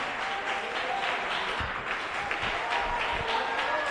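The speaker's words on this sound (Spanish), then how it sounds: "Dale un aplauso al Rey de Reyes y Señor de los señores" Church congregation applauding during a missionary-themed service, a continuous wash of clapping with low rumbling undertones and some background voices mixed in, steady and moderately loud.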